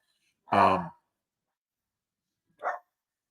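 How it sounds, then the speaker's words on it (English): A dog barks twice nearby, one full, loud bark followed by a pause of well over a second, then a shorter, higher yip-like bark, in an otherwise silent room. "My dogs are going crazy."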